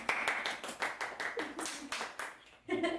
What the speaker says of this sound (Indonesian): Tepuk tangan dulu untuk Bang Wafi